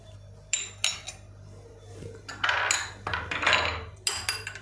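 A spoon mixes jeera and salt into buttermilk in a glass, making irregular bright clinks and taps against the glass with short stirring swishes between them, close and loud over a low steady hum, with no talking.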